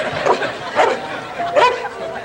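A dog barks and whimpers in a comedy sketch setting, three short yelping bursts evenly spaced over a steady background, fairly loud and close.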